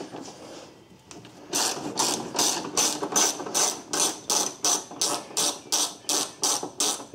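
A ratchet wrench loosening 10 millimeter bolts on a Volkswagen Jetta during secondary air injection diagnosis work, giving a steady run of rapid, evenly spaced clicks, close and clear, with a few faint knocks before it starts.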